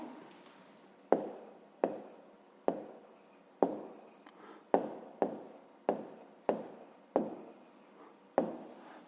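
Pencil strokes on paper during a fifth-grade maths exercise, a series of about a dozen short, close scratching marks at an uneven rhythm in a quiet room.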